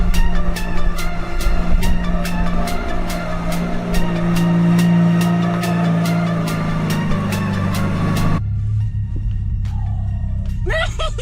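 A slammed VW Mk2 Golf drives on a road test, its engine holding a steady droning note with regular rhythmic ticks, then cutting off abruptly into a quiet cabin with a brief squeak at the end.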